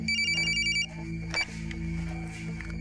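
A telephone rings with an electronic ring over a background music bed in a police crime drama, a call coming in from the hospital; a clear repeating ring in the first second, then the music carries on alone.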